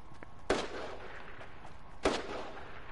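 Two distant gunshots in a video game firefight, each a sharp crack about a second and a half apart, faint and isolated over a quiet low background.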